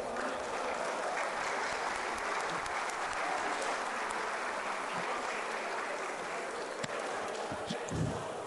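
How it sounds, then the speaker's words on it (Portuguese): A round of applause at a solemn legislative assembly session rolls on steadily for several seconds, a wide dense clapping from a large audience in a hall, with no speech over it. "Uma salva de palmas."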